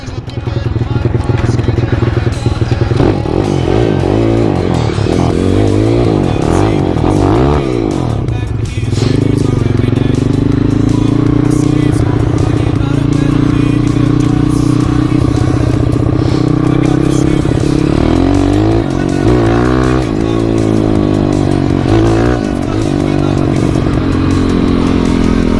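A Jawa KTM motorcycle revs hard in first gear on fresh snow, its engine wailing up and down in sweeping bursts, loud and close, with a longer sustained high drone mid-clip.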